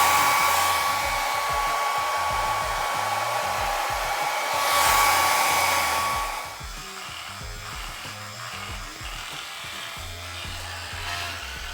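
Electric clippers shave a man's head with a steady buzzing whine that swells and cuts off around six seconds, then turns to quieter intermittent clicking and rustling, with no speech.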